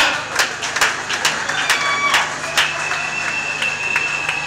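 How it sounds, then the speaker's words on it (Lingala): Audience clapping at a customary Congolese wedding, a burst of sharp individual claps spread over a few seconds with some crowd noise, fairly close. "est-ce qu'on peut applaudir très fort, s'il vous plaît?"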